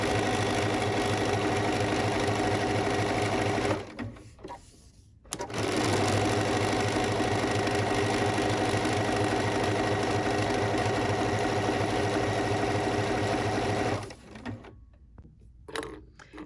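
A sewing machine quilts gentle curves on a holiday ornament, its steady close-up motor whir and needle chatter running continuously, stopping briefly partway through, then resuming before a final pause.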